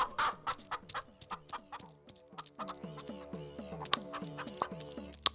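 Hen clucking close by, a steady series of short rhythmic clucks with occasional louder squawks, fairly quiet and without talk.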